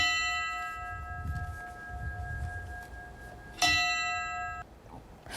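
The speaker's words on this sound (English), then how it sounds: "Bells chimed in Buffalo, New York today to mourn the lives lost during last year's mass shooting at a supermarket." Bells ring out in Buffalo, New York, to mourn the victims of a supermarket mass shooting: one sustained bell tone rings and fades, then a second clear strike rings out over a low outdoor rumble.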